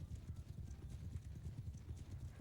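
Horse hooves clip-clop steadily at a quick running pace in the medieval battle game Mount & Blade II: Bannerlord, close and continuous, with faint battle noise in the background.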